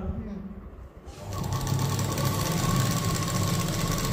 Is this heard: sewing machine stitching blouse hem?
yes